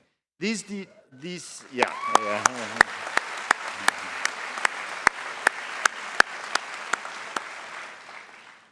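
An audience at a university academic excellence awards ceremony applauds steadily after a few loud whoops of cheering, with scattered sharp claps standing out from the dense, even clapping.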